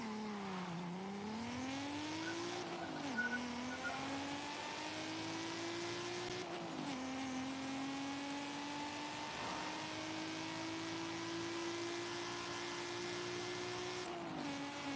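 Nissan GT-R R34 race car engine in Forza Horizon 5, revving and accelerating steadily through gear changes, loud and close with a few brief tire squeals, no talking.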